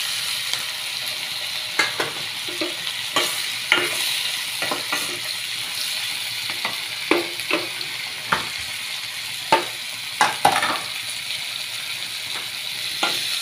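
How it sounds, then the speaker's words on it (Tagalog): Shrimp stirred in a hot pan of frying oil give a steady bright sizzle, broken by sharp scraping clicks of the utensil against the pan at irregular intervals; no voices. "Haluin lang natin"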